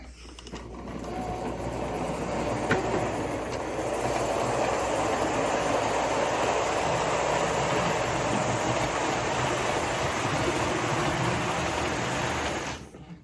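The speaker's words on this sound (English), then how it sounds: "We can send this train out onto the branch line." A model train rumbles steadily along a layout track for the whole stretch, with a constant mechanical whir and faint clicking, close by and fairly loud.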